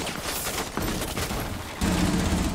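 Rapid gunfire in a tactical shooter video game rattles in dense, loud bursts as a barricade is shot down, with the sound shifting and swelling near the end.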